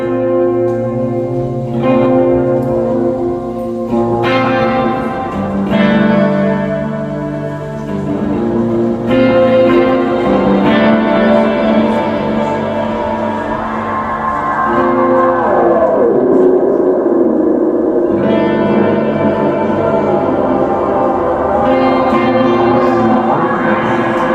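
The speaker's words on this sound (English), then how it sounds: "So it has a tape delay. You can activate a reverb that has a pitch shifting on it too." Layered sustained guitar chords through a guitar pedal's tape delay and pitch-shifting reverb wash out into long echoing repeats and shimmering, pitch-shifted reverb tails, heavily effected and continuous with no talking.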